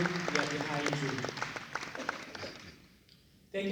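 Audience applause for award recipients at an automotive industry awards event, a crowd clapping under a voice before fading near the end.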